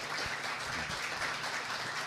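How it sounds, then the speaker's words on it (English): Studio audience applauding during a radio show, a soft continuous patter of clapping heard at moderate distance with no talk over it. "appropriate applause here"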